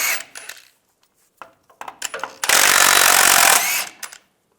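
A power tool with a 21mm socket spins two nuts off a 2007–2013 Chevy Silverado during timing chain work, close by. It gives a few short bursts, then one sustained whir of about a second, amid clanks and handling noise.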